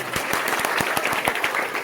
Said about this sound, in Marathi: यांच्यासाठी एकदा जोरदार टाळ्या वाजवा